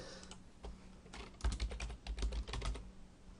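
Credit card details typed on a computer keyboard, a quick close burst of clacking keystrokes in an irregular rhythm after a few scattered taps, no voices.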